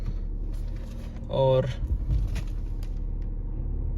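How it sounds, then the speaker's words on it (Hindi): A 2024 Maruti Suzuki Dzire facelift idling just after a cold start gives a low, steady engine rumble heard from inside the car, while someone talks over it. "ये मैंने गाड़ी स्टार्ट कर ली है दोस्तों"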